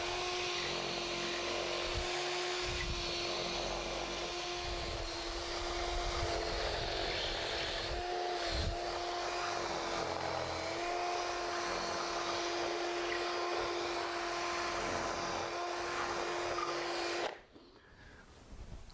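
A drill bit cleans a knot out of wood with a steady, whining motor drone that runs for about seventeen seconds and then cuts off abruptly.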